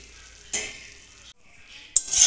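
Lentil dumplings (bori) being stirred in ghee in a frying pan, with a soft sizzle and two brief louder bursts of scraping and frying noise, no talking.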